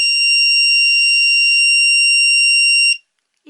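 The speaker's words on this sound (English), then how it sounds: "So I get a really loud beeping noise off my little kiln." A small electric pottery kiln emits a loud, steady, high-pitched electronic beep on being switched on, held continuously for about three seconds before cutting off abruptly into silence.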